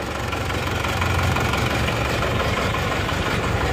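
An older turbo diesel Isuzu Panther Touring, pre-Euro with no EGR, idles roughly and misfires, a loud, steady, close engine rumble with an uneven knocking pulse throughout and no talk.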